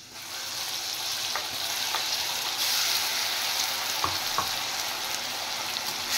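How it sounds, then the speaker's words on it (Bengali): Onion and garlic paste frying in a hot pan gives a steady, close sizzle and hiss, with a few light clinks of stirring and no talking. "এবার আমি দিয়ে দিচ্ছি এখানে পেঁয়াজ আর রসুন পেস্ট করে রেখেছিলাম"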